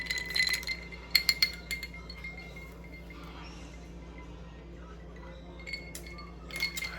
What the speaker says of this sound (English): I'm gonna give it a little stir so I can get it nice and cold.